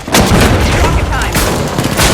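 An MGL32 grenade launcher fires in the video game The Finals, producing a loud, dense burst of booming blasts and explosions that fills the whole moment without any break.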